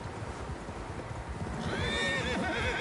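Several horses in Red Dead Redemption 2 whinny and neigh over a steady clip-clop of hooves, loud and close, with a sharp high whinny rising near the end and no talk.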